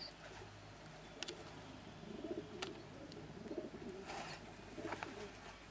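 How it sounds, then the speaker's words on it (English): A pigeon coos softly and steadily outdoors beside a main road in hilly countryside, faint and somewhat distant, with a few brief chirps. "There's always a pigeon somewhere."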